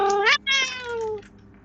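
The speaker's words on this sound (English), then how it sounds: "That's a loud kitty cat." A house cat lets out two loud, drawn-out meows, the second longer and trailing off, close and clear with no talking.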